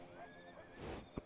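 A horse whinnies in a video game, a short faint neigh over low background noise, ending in a brief thump.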